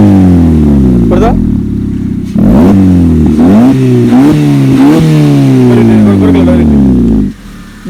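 A Maruti Ciaz with a valvetronic exhaust cutout revs repeatedly, the engine note climbing and falling in several sharp blips before settling back. A voice talks over the loud exhaust throughout.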